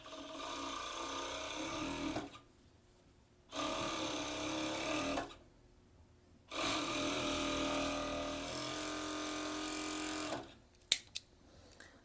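Sewing machine runs in three steady bursts separated by short pauses while stitching elastic onto the inside of the outer fabric at a bikini waistband, followed by a couple of sharp clicks.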